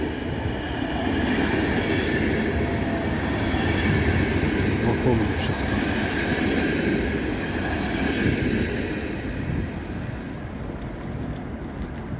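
IC Chopin passenger train with a railcar from Budapest rolling past, a steady loud rumble of wheels and carriages lasting throughout, with brief squeals and a voice speaking over it.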